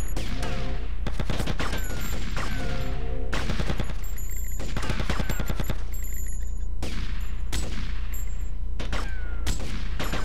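Point-blank gunfire in GTA Vice City, loud rapid volleys of shots that come in repeated bursts with brief gaps between them, alone with no talking.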